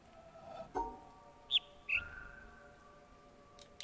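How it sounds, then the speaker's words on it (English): Bird song in The Witness puzzle game: a few faint, thin chirps and short whistled notes, separated by pauses over a quiet ambient background, with no talking. "I heard it that time. It's the bird song."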